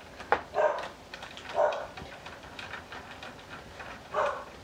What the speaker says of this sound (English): Now my dog is all amped up because TJ's too loud